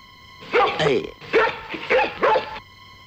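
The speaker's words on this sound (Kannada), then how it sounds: "ಮತ್ ಯಾವ ನಾಯಿ ಹೀಗೆ ಕೂಗ್ತಿದೆ?" A dog barks and yelps in three bursts at close range, with sharp, strained calls that almost sound whining.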